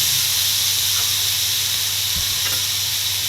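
Vegetables sautéing in a couple of spoonfuls of butter in a nonstick pan, giving a loud, steady, close sizzle with a hissing, steamy edge that runs unbroken on its own.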